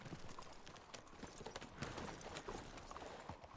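Horse hooves clip-clop steadily at close range in a Red Dead roleplay game, a dense run of clattering steps amid a busy background.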